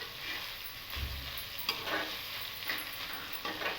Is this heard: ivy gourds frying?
yes